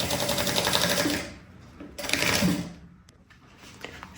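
Sewing machine stitching the side seam of a fabric bag made of Trisse fabric, running in two close, steady whirring bursts with a short pause between them, loud and alone.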